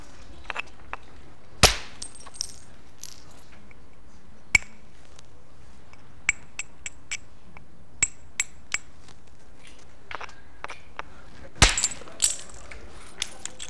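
A stone tool is thinned by flint knapping: sharp, isolated clicks and cracks land at irregular intervals as flakes are struck off. Two louder strikes stand out against a near-silent, quiet background.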